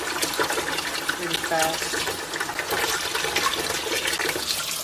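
Cyanotype paper on linen-textured stock being rinsed in water: steady splashing and running-water swish throughout, close and continuous, with a voice speaking briefly over it.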